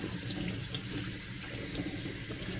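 Hot tap water pours in a steady, even stream as a K&N air filter is rinsed under it, running continuously with no voices.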